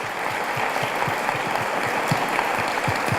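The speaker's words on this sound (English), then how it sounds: "And can we give them a round of applause?" An audience at the 2019 Oldham County Celebration of Women applauds steadily in a hall, a moderate wash of overlapping claps continuing without pause.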